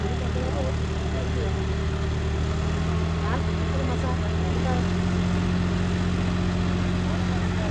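A John Deere tractor engine idles steadily with a low, constant throbbing drone that stays close and loud the whole time.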